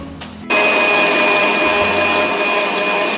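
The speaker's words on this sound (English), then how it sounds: "The first step is to beat the egg whites until you have stiff peaks." An electric mixer whips egg whites to stiff peaks for a Christmas Yule log, starting abruptly with a loud, steady whirring drone that holds constant through to the end.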